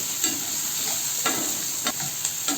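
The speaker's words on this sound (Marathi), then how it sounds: "ते तेल हे त्यामध्ये कांदा परतून घेऊ." Onion frying in hot oil with cumin, oil left over from roasting eggplant and tomatoes: a close, constant crackling sizzle with several quick stirring scrapes, heard briefly and without speech.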